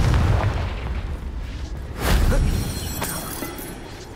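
Confringo fire spell exploding in the Hogwarts Legacy video game, a deep booming blast with a second burst midway, followed by crackling debris and a rumbling tail, loud and alone.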